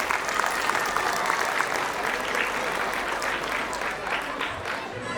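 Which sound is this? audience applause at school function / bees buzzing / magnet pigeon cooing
audience applause at school function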